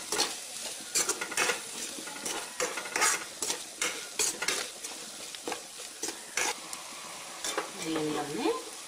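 Small prawn and sorrel curry being stirred in a pan after salt goes in, with repeated scraping and clinking strokes over a soft sizzle, fairly close and steady, with no talking.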